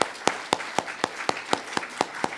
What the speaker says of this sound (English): let's give a little round of applause for everybody who's volunteering